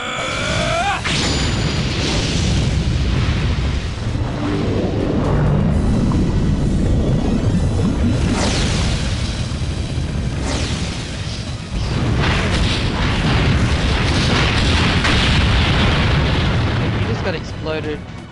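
An Explosion magic attack in the video game Legend of Dragoon, with booming blasts and rumbling bursts repeating over a long stretch amid game music and effects, loud throughout.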